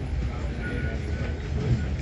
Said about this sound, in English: Still on the train.